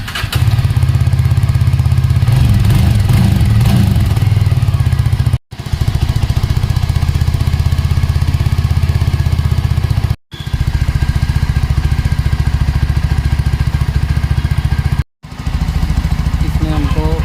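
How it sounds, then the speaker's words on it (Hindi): A 2023 Jawa Yezdi Scrambler with dual exhausts runs steadily at close range, a loud low thumping engine note that persists throughout with a few brief dropouts, while someone talks over it. "जावा की यज़दी स्क्रैम्बलर बाइक को हम स्टार्ट करके दिखाते हैं कितना डीबी तक इसका साउंड जाता है।"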